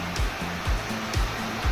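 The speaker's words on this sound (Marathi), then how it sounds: "इथून तर पाणी रस्त्यावरून बघा इतकं वाहतंय पाणी" Floodwater pours across a road after days of heavy monsoon rain, a steady loud rushing wash with rhythmic low surges, close and continuous with no talk.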